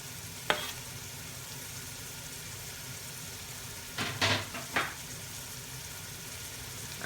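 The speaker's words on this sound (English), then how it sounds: "And at this point we'll add in our ginger that we grated up." Grated ginger frying in a pan for chicken korma, a steady close sizzle with a sharp utensil knock early on and a brief flurry of stirring scrapes near the end.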